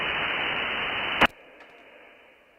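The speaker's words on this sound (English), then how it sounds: "I just like to leave the white noise on very low" Loud, steady static hiss from a satellite radio receiver fills the first half, then cuts off abruptly with a sharp click, leaving only a faint low hiss and a few tiny ticks.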